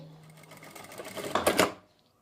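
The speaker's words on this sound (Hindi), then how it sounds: "इसी तरह से हम दूसरी तरफ सिलाई लगा लेंगे।" A sewing machine runs a seam on a kurti, a steady mechanical whir that builds and grows louder for about a second before stopping abruptly, close and alone without talk.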